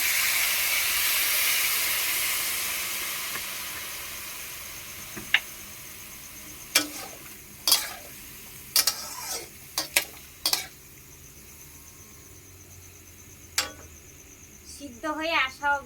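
Water hits a hot pan of cooking mangoes with a brief initial hiss, followed by scattered sharp stirring clicks and scrapes against the pan over a low steady simmer.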